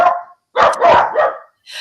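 A dog barks several sharp, loud times close by in quick bursts separated by brief pauses, with no talk.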